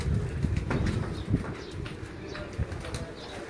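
Pigeons on a Lahore rooftop loft give a soft, low continuous cooing, with a few bursts of wing flapping and some shuffling at close range.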